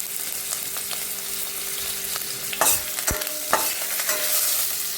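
Leaves crackle and sizzle in hot oil with a steady frying hiss, punctuated by a few sharp pops and stirring clatters.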